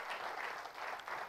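Audience applause at a direct selling business seminar in India, a dense wash of many hands clapping steadily throughout, moderately distant and filling the room.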